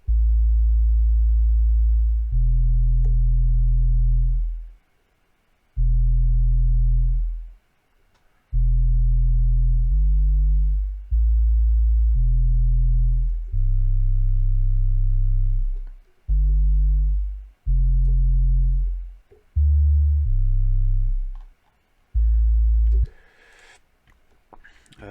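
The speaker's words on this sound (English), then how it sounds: "This is what the sub bass sounds by itself." Deep synthesized sub bass made in Serum playing alone as a track element, a series of sustained low sine-like notes of varying lengths separated by short gaps, steady and loud throughout.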